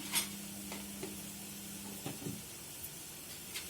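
Onions sizzle steadily in a hot pan while turmeric is stirred through them with a spoon, with occasional sharp clinks and scrapes against the pan over a constant low frying hiss.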